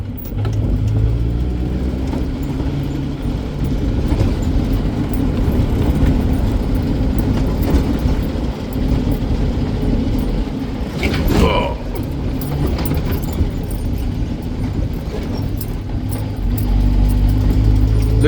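A Land Rover 109 S crawls along a field in third gear at low speed, its engine giving a steady, close, low rumble with slight rises in revs, and someone talks briefly over it.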